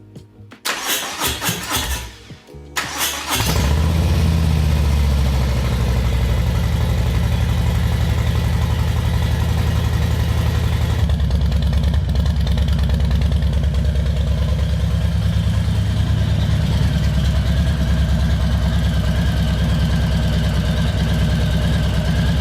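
A rebuilt Harley motorcycle engine cranks in a few stuttering bursts, catches, and settles into a loud, steady, lumpy idle that runs continuously close by.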